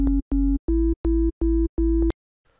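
Deep house synth bass built from two sine oscillators with an organ-like tone, playing six loud, sustained, evenly spaced notes that step up in pitch after the second, followed by near silence.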